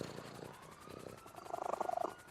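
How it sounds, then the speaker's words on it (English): A cat purrs inside the video game GTA 5, a soft rhythmic rumble that builds toward the end into steady, louder pulses, heard alone at close range. "I'm a cat. I can purr."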